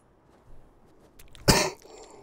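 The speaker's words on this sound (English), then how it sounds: "sorry about the coughing, guys" A single sharp cough sounds up close after a moment of near silence, preceded by a softer throat sound.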